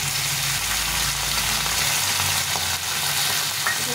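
Paste of ginger, cumin and green chili sizzling hard with tomatoes in a pan for a rohu fish and eggplant curry, a loud, continuous hiss that stays close and steady throughout.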